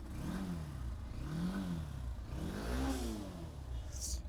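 A 2019 carburetor motorcycle engine runs close by, its pitch rising and falling in repeated revving swells over a steady low idle rumble, with no talking.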